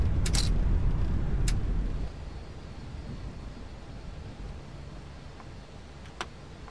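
Airliner thrust reversers roar loudly during landing rollout in the flight deck, a broad heavy rumble that fades after about two seconds into a quieter steady whoosh with a few faint clicks.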